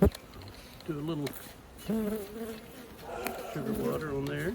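Honeybees buzz during a hive inspection, a faint swarming drone of many wings rising and falling in pitch close by, with a quiet voice murmuring underneath.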